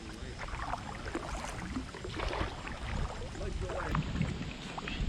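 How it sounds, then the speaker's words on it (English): Heavy wind sweeps across a lake near a river mouth during a kayak outing, a steady, blustery rush of broadband noise that holds loud and unbroken for the whole stretch. "It's a windy day today."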